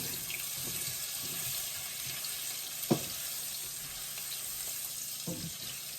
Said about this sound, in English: When you fry it like this a little bit, it smells good, very good